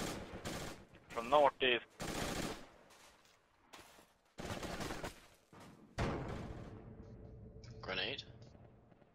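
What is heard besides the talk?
incoming gunfire in the video game Battlefield 2 Project Reality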